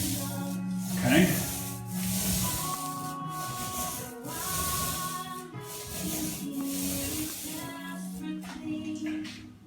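Steady scraping and rubbing of sandpaper flattening a painted bathroom wall, continuing for several seconds with faint background tones and a brief rising squeak early on.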